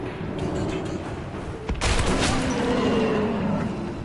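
Gunfire in Metro 2033 Redux: a rough, rumbling fusillade of shots under constant game noise, with a louder blast about halfway through that hangs on for a moment.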